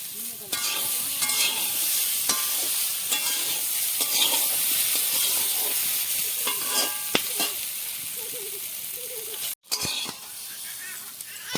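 Papaya being stir-fried in a wok, with a steady close sizzle and repeated scraping stirs of a spatula against the pan throughout, briefly cutting out near the end.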